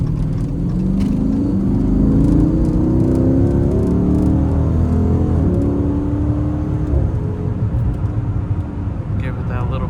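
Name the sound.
Chrysler 392 car engine accelerating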